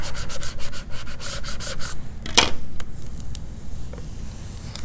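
A vinyl decal is rubbed down onto a layered design, making a series of close, brisk scraping strokes, steady then easing off into quieter occasional rubs.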